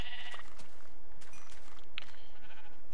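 Sheep in the Minecraft video game bleat repeatedly and loudly over a dense, noisy wash of game sound, the calls overlapping in quick succession.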